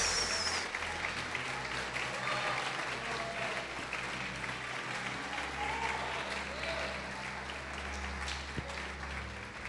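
Congregation applauding during a Portuguese-language church sermon, a fairly quiet, sustained wash of clapping heard at a distance for several seconds, with a low hum and faint voices underneath.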